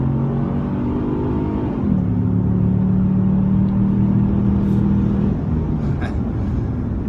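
Engine drone from a 2016 Ford Explorer Sport with a 3.5L EcoBoost twin-turbo V6, heard from inside during an open-road run. A steady rumbling drone dips briefly as it shifts, then holds strong and loud.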